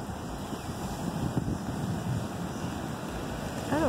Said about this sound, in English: I love it when the waves crash like that.